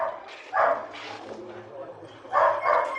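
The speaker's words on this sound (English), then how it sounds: "These dogs are greyhounds, and greyhound racing is very popular in England." Greyhounds at a racing stadium in England let out a few bursts of barking and yipping, two clear clusters of calls with a voice talking over them.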